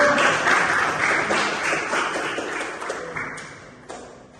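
Applause from a small audience at an electronics exam session, brisk clapping that starts full and gradually fades out, ending in a few scattered claps.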